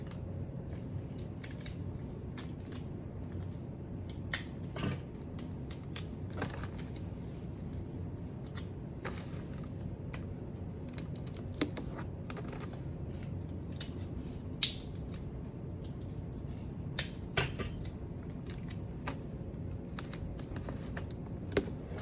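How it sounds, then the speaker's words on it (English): Adhesive tape is handled while a gift basket is wrapped in a tablecloth, giving faint, scattered crackles, ticks and rustles over a quiet room, with no talking. "Let me grab my tape."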